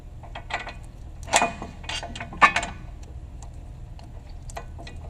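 Ratchet clicks from tightening bolts during a brake install on a 2006 Duramax 2500HD truck: a few quiet, close bursts of rapid clicking with short metallic clinks between them.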